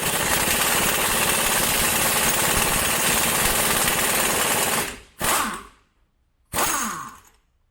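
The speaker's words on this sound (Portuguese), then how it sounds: "a pneumática é de impacto, ela vai dando soquinhos para tentar soltar" A pneumatic impact wrench hammers at an oxidized nut on the rear brakes of a 1976 Volkswagen Fusca. A loud, rapid, unbroken rattle runs for about five seconds, then two short bursts follow with silent gaps between them, close up and with no talk.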